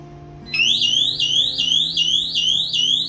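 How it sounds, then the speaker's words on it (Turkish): A shrill motion detector alarm starts suddenly indoors and repeats a rapid rising whoop over and over, loud and close, with a steady hum underneath. "şimdi susturduk alarmı"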